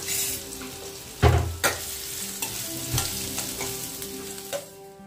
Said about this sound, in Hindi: ऑयल में जीरा लहसुन ऐड कर कर अच्छे से उसको भून लिया